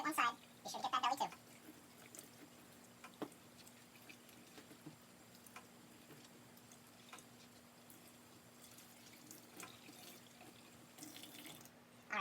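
A running tap rinses a raccoon skin in a brief burst of flowing, splashing water at the start. Quieter drips and trickles follow, and the water swells again near the end.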